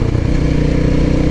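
A Loncin LX300 enduro motorcycle rides along with a steady, loud, close engine drone, its rumble continuous and even throughout.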